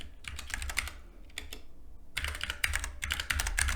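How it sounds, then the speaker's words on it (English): Fingers type on a computer keyboard in quick, faint bursts of clicking keys separated by short pauses, with no voices. "I'm going to type a congratulations message."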